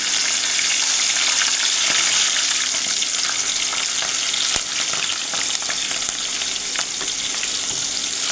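Bhaji fritters frying in hot oil, a dense continuous sizzle and crackle that stays steady and loud throughout, close up and with no talking.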